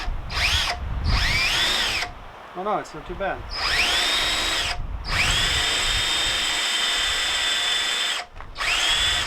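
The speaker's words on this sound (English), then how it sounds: "let's see if we can drill this stainless steel bolt" Power drill boring into a stainless steel bolt during an outboard motor rebuild, loud whining bursts that rise as the motor spins up and drop away during short pauses, with someone talking briefly between runs.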